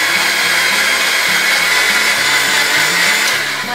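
A mixer grinder whirs steadily, beating semolina, egg and sugar for a cake, with a loud continuous motor drone and a pulsing low hum for the whole stretch, no talking.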